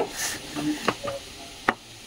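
A spatula stirs greens frying in a kadai with black cumin, salt and turmeric, giving a soft sizzle broken by a few sharp scraping clicks against the pan.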